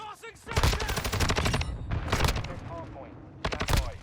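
Gunfire from an STB 556 rifle in a video game, rapid bursts of close, sharp automatic shots in two volleys separated by a short pause, with a voice speaking between them.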